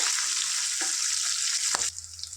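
Green chillies sizzle in hot oil in a pan, a bright steady frying hiss with a couple of soft stirring clinks, the sizzle dropping away sharply near the end.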